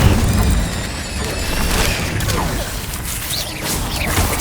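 Fire spell cast in Hogwarts Legacy, a loud continuous roaring whoosh and rumble of combat effects with booming impacts, dense and sustained throughout.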